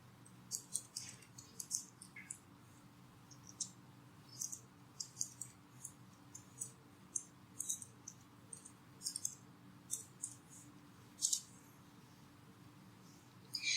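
Typing on a computer keyboard comes through as faint, close, irregular clicks and taps in short clusters over a quiet low hum, with no one talking.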